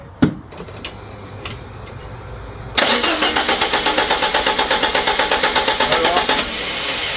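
A Fiat 500's engine cranks over on the starter with the coil pack disconnected, so it spins without firing. After a few faint knocks it gives a loud, steady, rapid chugging rhythm for several seconds, then the starter cuts out.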